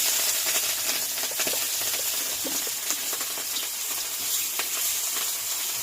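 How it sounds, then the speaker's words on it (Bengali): Whole tuna fish fry in hot oil, a close, continuous crackling sizzle with scattered pops and spits, steady and alone without talk. "তেল গরম হয়ে গেছে আবার মাছ ভাজার জন্য দেবো"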